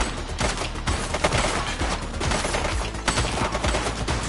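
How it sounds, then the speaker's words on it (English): A shooter fires in the video game The Precinct: loud, rapid, sustained automatic gunfire with overlapping shots, close and dense throughout, with no talking. "He's shooting!"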